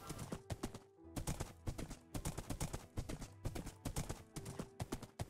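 A horse's hooves clip-clop in Minecraft Earth, with quick, even hoofbeats close and clear, broken by a short pause early on, and no voices.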